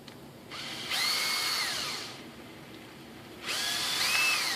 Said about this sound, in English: We get the drill.